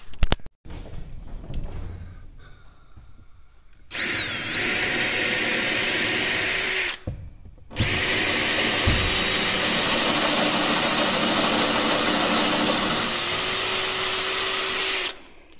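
A power drill drives star-bit screws into tongue-and-groove cabin ceiling boards, producing two loud sustained whines separated by a short gap, preceded by faint handling clicks.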